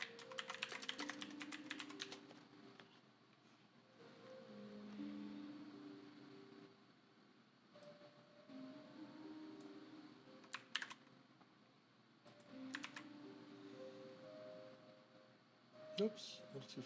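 Fingers tap on a computer keyboard in quiet bursts of clicking keystrokes, with a person murmuring softly in between and a low hum in the background.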